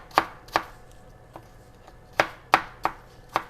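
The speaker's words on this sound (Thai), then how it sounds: "หั่นไปเรื่อยๆจนหมดนะคะ" A knife slices apples on a cutting board for an apple pie, making about seven crisp, close chopping knocks at an uneven pace with short pauses between them.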